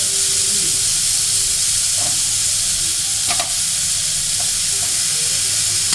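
Chopped green tomatoes and onion frying in a pan, a loud, dense, hissing sizzle that holds steady throughout, with a few clinks of a spoon stirring, close by and without talk.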